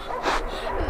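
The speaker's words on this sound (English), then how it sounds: "That's his bark." A dog gives a single short, sharp bark, close and fairly loud, followed by a brief whimpering tail, with no talking.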